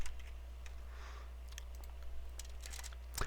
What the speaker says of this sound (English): And I'm going to type it just like that.